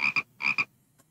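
A poison dart frog in the video game Play Together gives two quick paired croaks, a short pause, then another double croak, clear and close with no talk over them.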